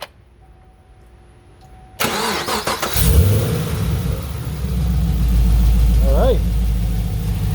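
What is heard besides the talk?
Chevrolet Camaro SS 1LE engine starting and idling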